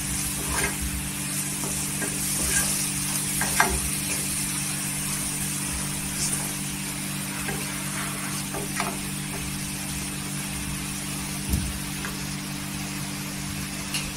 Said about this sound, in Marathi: इथे पूर्ण मसाले सुके मसाले आहेत, तेलावर परतून घ्यायचे।